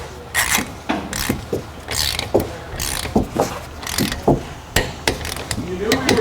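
Sharp ratcheting clicks and clanks come from a torque wrench tightening lug nuts on a Hyundai Elantra, close and repeated in short bursts, with some speech in the background.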